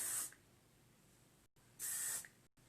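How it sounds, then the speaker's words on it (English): Texturizing hair spray misted at the roots of lifted hair in two short, close hissing bursts separated by a quiet pause. "I'm going to take this texturizing spray, and I'm going to just kind of lift my hair up like this and go into the roots"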